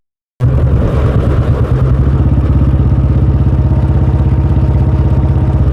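Tractor engines run steadily while digging a water storage pit in a village field, a loud continuous low diesel chug with a rapid pulsing rhythm and some clatter, close by and without talk.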